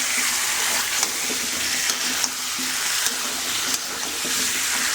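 Water pours into a cooking pot of shrimp with water lily stems, a steady rushing, gushing flow throughout with a few faint clicks and knocks, close and without talk.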